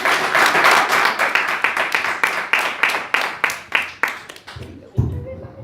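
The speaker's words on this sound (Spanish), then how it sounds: "Den un aplauso al Señor" A church congregation claps together in a strong, even rhythm, loud and close, the beats slowing and fading before a voice begins speaking near the end.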